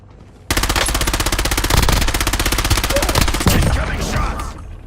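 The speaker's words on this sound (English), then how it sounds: "Incoming shots!" Rapid automatic gunfire in a war-zone shooter video game, a loud sustained burst of machine-gun shots that starts abruptly and keeps hammering for several seconds with scattered single shots near the end.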